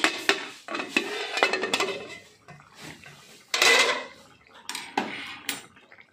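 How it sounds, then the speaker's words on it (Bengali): Metal lid lifted off a cooking pot of tangy green-tomato bata fish curry, a few close clanks and scrapes of metal cookware in quick succession, no talk. "এবার আমি ঢাকনাটা খুলে নিচ্ছি।"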